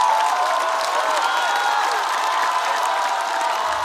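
A studio audience at a stand-up comedy contest applauds and cheers a contestant advancing to the next round, dense continuous clapping mixed with crowd whoops and shouts, loud and sustained throughout.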